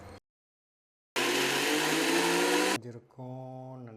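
Mixer grinder blending roasted gram with milk: a loud, dense motor whir running about a second and a half after silence, then cutting off into a fading whine and lower hum.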